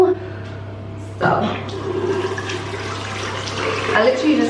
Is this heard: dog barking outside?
no